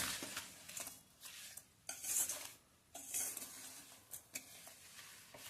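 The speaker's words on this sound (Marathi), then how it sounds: "सतत हलवायचंय, म्हणजे हे साखर किंवा गूळ जे आहे त्याच्यामुळं ते करपत नाही." A spoon works steadily through amla chunda cooking with sugar or jaggery in a wok over the gas, giving quiet scraping strokes and light metallic clinks in an uneven rhythm, close and fairly soft.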